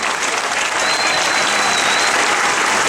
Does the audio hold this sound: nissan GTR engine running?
no